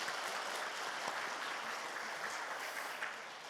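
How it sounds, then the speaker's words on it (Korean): A church congregation applauding in a sermon hall, steady dense clapping from many hands that stays loud throughout and fades slightly at the end, with no talking. "박수 한번 하겠습니다"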